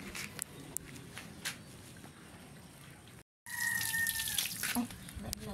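Water runs from a tap for washing at a campsite, a soft steady splashing with a few clicks and knocks, quiet and close, growing louder after a brief cut.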